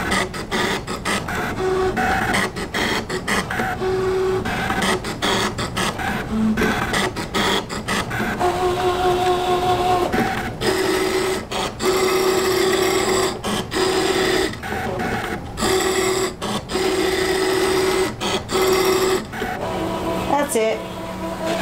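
A Brother ScanNCut machine cutting calico fabric into small rake-head pieces gives a steady close motor whir with a tonal whine, broken by rapid rhythmic clicks and stepping sounds that continue without pause.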